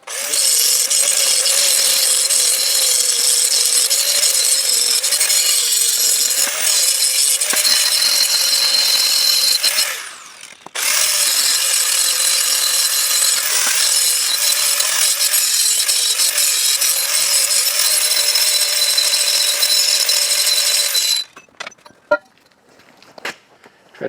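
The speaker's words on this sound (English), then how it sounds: "So we're going to grind these up now, put them back in there, and then we're going to probably start tacking them up." Angle grinder grinding steel pieces for a welding project, heard as a loud, steady, close whine that runs continuously, briefly dips near the middle, then cuts off, leaving faint clinks.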